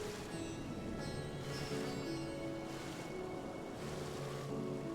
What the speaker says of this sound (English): I've been listening to this water.